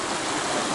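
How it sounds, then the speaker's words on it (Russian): A calm river flows past the remains of an old log-frame watermill in the wild, a steady, full rushing wash of water close by with no voices. "Смотрите, как идет речка. Вроде так спокойно идет река."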